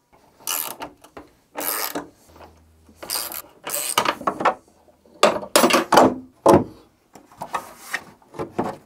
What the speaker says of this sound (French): Il faut qu'on vienne enlever les 4 écrous des deux côtés, et normalement ça devrait sortir assez facilement.